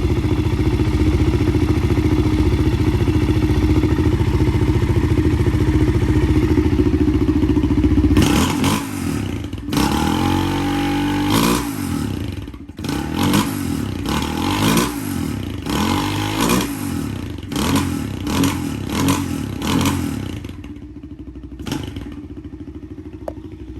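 A Suzuki LTZ400 ATV engine, sold as an Arctic Cat DVX400, idles steadily at close range, then a stretch of irregular clattering and thumping bursts follows before the sound settles down.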